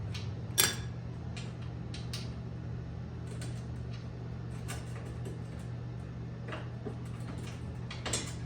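Wrench clicking and ratcheting as 9/16 bolts on a Harley crash bar are loosened, several short sharp ticks over a steady low hum, near and fairly quiet.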